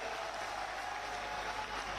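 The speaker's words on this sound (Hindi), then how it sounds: "जोरदार ताली बजाओ इस बात के लिए।" Crowd clapping at an outdoor political rally in Budaun, a steady wash of applause heard from a distance, faint and continuous with no break.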